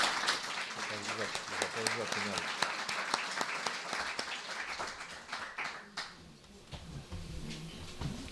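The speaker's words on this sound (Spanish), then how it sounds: "un fuerte aplauso para nuestro ilustre conferenciante" Audience applause for a lecturer at a talk on ethnographic museums in Cantabria, a dense, steady clapping from a room full of people that thins out after about six seconds while quiet voices start up underneath.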